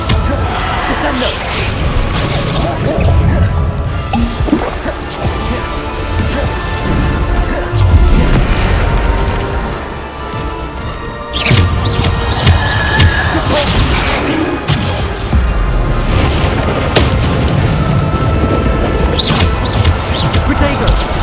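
Bombarda spell explosions in the video game Hogwarts Legacy land as repeated heavy crashes and booms. They come amid other combat impacts, while a voice shouts over the action throughout.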